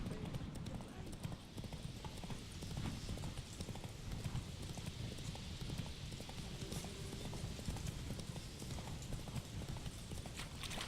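Galloping horse hooves in The Witcher 3 video game, a fast rapid clip-clop beating steadily under a dense mix of game sound and voices.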